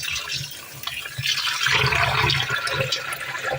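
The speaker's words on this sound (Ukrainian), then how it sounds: "А далі м'ясо необхідно залити холодною водою" Cold water runs steadily over pork meat being soaked in a kitchen vessel, a continuous close splashing and gurgling pour with no talk.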